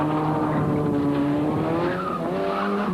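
A Volkswagen rally car at a 1997 rally, engine droning loud and close as the tyres squeal and skid in a sustained slide.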